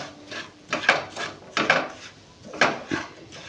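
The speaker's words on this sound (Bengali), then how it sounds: "যে বাটি বাকি সুজিটা ছিল সেটা আমি এর মধ্যে একটু নেড়ে চেড়ে নিচ্ছি" Semolina stirred in a pan over low heat, a spoon scraping and rubbing across the pan in about four rhythmic strokes, close and fairly loud, with no speech.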